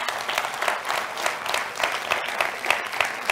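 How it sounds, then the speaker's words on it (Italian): A brief burst of dense applause from an audience at an Italian public event, steady clapping with rhythmic swells, fairly close and filling the whole stretch without talk. "Farei un applauso"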